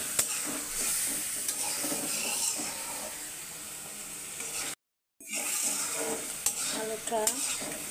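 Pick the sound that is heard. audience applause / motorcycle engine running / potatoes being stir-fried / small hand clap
potatoes being stir-fried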